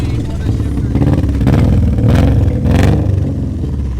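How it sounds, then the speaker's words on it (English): A Honda car engine with a faulty IAC valve idles with a loud, lumpy low-pitched rumble and uneven pulses, with voices talking over it. "It idles like every Honda with a beat IAC."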